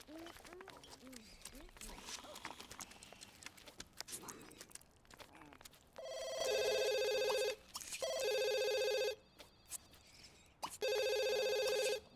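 A telephone rings in The Sims 2 life-simulation game, heard as three long, loud electronic ring bursts in the second half that follow quieter game sounds and talk.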